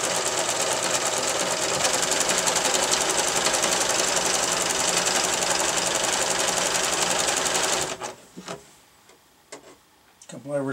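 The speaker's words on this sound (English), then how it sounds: "Set it under the foot thingy here of the sewing machine." A sewing machine stitches fabric in a fast, steady mechanical clatter for about eight seconds, then stops abruptly, leaving faint handling sounds and a brief voice.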